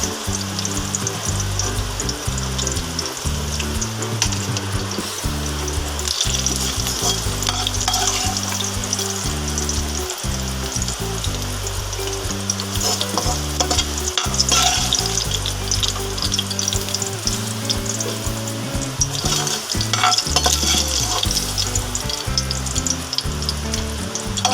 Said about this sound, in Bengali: বন্ধুরা আলুগুলো আমার ভাজা হয়ে গেছে খুব ভালোভাবেই ভাজা হয়েছে